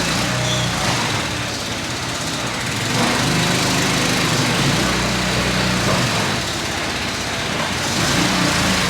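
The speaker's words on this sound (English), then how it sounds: "So here's our laser cutter." An industrial laser cutter runs in a fabrication shop that builds commercial log splitters, giving a loud, steady mechanical roar with a low hum that rises and falls slightly throughout.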